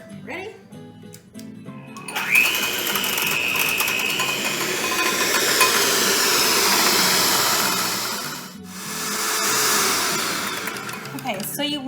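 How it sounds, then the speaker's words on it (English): An electric hand mixer whips dalgona coffee in a bowl, a steady loud motorized whir running from about two seconds in, with a brief pause and restart, and talk over it. "I'm going to use this electric hand mixer because it's a little faster"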